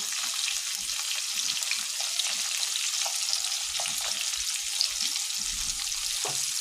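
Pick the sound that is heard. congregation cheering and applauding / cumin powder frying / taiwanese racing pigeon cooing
cumin powder frying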